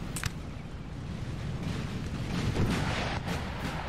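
Artillery booms in Napoleonic Total War 3 during a battle between Sweden and Russia, a dense rumbling barrage of distant cannon fire with a few sharper reports over a constant low roar.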